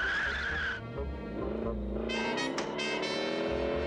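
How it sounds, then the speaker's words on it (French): A cartoon car speeds off in the 1980 Daffy Duck and Sylvester short The Yolks on You, in its French dub: a loud, steady, tonal engine roar with bursts of squealing tires, close and continuous. "Stoppez cette voiture!"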